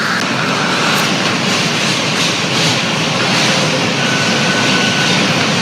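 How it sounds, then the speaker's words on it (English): A New York City subway N Express train runs at speed, a loud, steady broadband roar of wheels and rails heard from inside the car with no break throughout. "This is a Brooklyn-bound N Express train."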